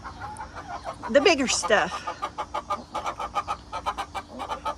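An olive egger hen clucks almost nonstop in a backyard, a steady run of short, close clucks, with a person talking over the first part.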